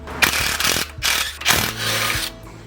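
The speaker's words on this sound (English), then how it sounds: "Take our 10mm and remove the 4 bolts surrounding that shaft." A 10mm ratchet works loose the four bolts on the clutch plate of a Coleman mini bike, giving several close bursts of rapid clicking separated by short pauses.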